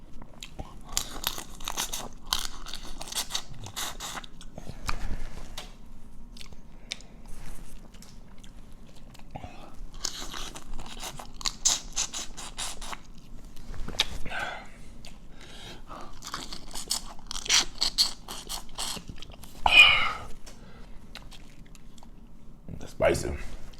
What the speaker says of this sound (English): I like to eat more than one crawfish at first, and have like a certain amount of heads